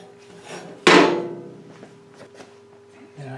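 A single sharp hammer blow knocks a part loose during disassembly of a Frazer B1-7 rototiller, ringing out loud and close, followed by faint metallic clinks and handling noise.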